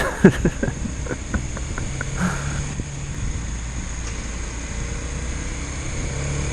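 Road traffic heard while riding a Kawasaki Z250SL motorcycle in heavy Bursa city traffic, a steady low engine and road drone with a few brief clicks and knocks near the start.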